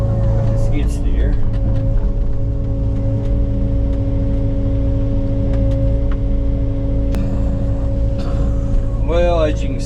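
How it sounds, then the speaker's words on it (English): A skid steer engine runs steadily at a constant drone throughout, loud and close, during outdoor land clearing with brush being fed; a voice talks briefly over it. "I got somebody now that can feed me brush with the skid steer."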